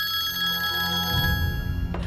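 A telephone bell rings with a bright, sustained trill, then cuts off into a soft clatter, like a receiver being picked up.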